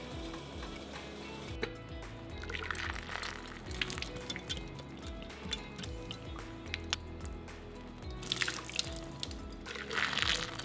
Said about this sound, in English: The first step was to clean out the inside of the shell as best I could using hot water.